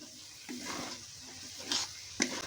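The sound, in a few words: stirring potol stuffing frying in pan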